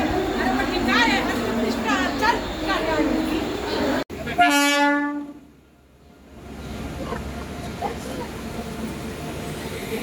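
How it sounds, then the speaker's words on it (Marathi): A crowded local train during Chhath Puja travel passes near a station, with a long sharp horn blast cutting through chatter, then the rumble fading before a gradual return of background noise. "मामा तिकडं लोकल आली"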